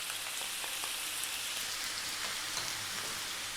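Cinnamon, bay leaves and onion sizzle in hot oil over just-above-medium heat, a dense, even crackling hiss like light rain, close and steady throughout.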